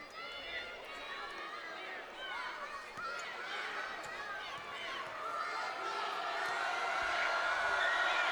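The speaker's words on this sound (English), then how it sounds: "Round of applause from the Millard North faithful, realizing that it was Neely that snagged that rebound." Crowd of basketball fans at a girls' state high school game, Millard North supporters, applauding and cheering steadily, a dense roar that swells louder toward the end with shouts and whistles over it.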